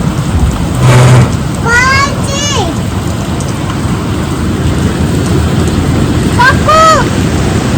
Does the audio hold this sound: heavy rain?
yes